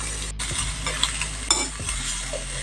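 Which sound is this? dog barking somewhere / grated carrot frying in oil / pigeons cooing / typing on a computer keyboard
grated carrot frying in oil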